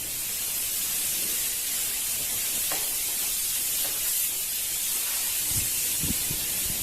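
Spray gun applying a urethane topcoat clear over stock paint on a car panel, a steady close hiss of atomized spray running continuously with faint small knocks underneath.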